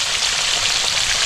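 Fish fries in a pan outdoors on rocks by the Xingu River, giving a steady, close crackling sizzle that continues without a break.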